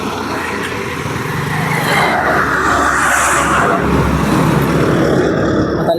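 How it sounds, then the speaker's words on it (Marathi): A motorbike sets off on a village road in rural Maharashtra, its engine a steady, loud rumble with rushing wind close to the rider, continuous throughout with no clear talking. "बाईकवरून निघालो आता आम्ही"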